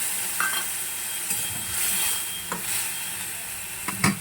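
Water poured over fried spices and flat beans (shim) in a hot pan sets off a loud bursting hiss that swells and fades, with scraping stirs and a sharp clack near the end.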